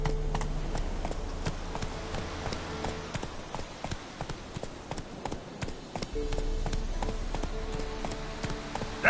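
Hooves of Roach, a horse in a video game, galloping in a quick steady clip-clop rhythm over nearly the whole stretch, close and clear with a low droning score underneath.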